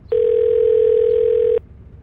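A single steady electronic phone tone from an outgoing call, one clean sustained beep about a second and a half long, loud and alone against a quiet background.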